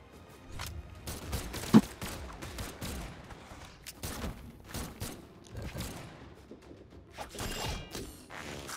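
Glock 19 pistol gunfire in a video game comes as scattered sharp cracks and bursts, one especially loud shot early on, mixed with clattering mechanical game effects at moderate level.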